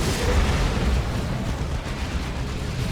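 In the Dawn of War 2 video game, Tyranid Venom Brood fire pounds a Space Marine Predator tank amid continuous dense battle noise of booming impacts and explosions, loud and unbroken throughout.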